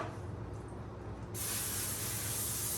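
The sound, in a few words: cooking spray sprayed on disposable pan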